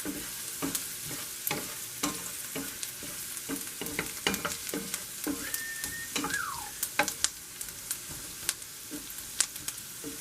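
Onions sauté and caramelize in a pan with a splash of bacon drippings, a soft continuous sizzle broken by frequent sharp clicks and scrapes of stirring, with a brief high squeak partway through.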